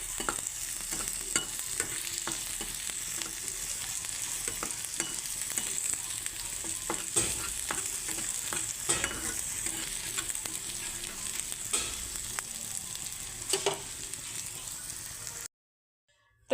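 Chopped onion frying in a hot pan for a Bengali bean bhorta, with a steady continuous sizzle and occasional stirring clatter, close and fairly loud, no talk, ending in a sudden cut to silence.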